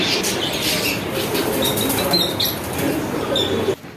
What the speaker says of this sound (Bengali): এই সাইড পুরা কবুতর